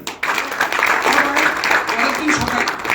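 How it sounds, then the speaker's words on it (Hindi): Audience applause at a company reward event in Kolkata, a burst of clapping that starts abruptly and continues steadily at moderate loudness, with voices faintly mixed in. "जोरदार ताली।"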